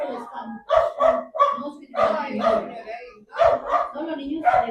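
Dog barking close by in a series of sharp, repeated barks, some in quick pairs, with voices talking around it.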